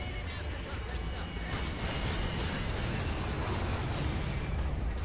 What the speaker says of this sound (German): Ich kann mal die Fässer jetzt zum Explodieren bringen.